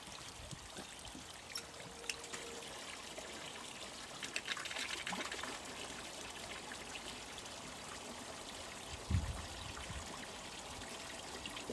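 A garden hose runs water into an external pond filter, a steady soft trickling and pouring stream heard close and fairly quiet, with a brief clunk near the end and no speech.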